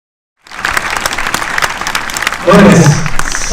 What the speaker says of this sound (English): Look at this sold-out crowd here at the world-famous Cinerama Dome.